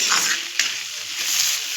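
Cauliflower, potato, radish and bean stir-fry sizzling in a pan, a steady close frying hiss with a brief stir or scrape partway through.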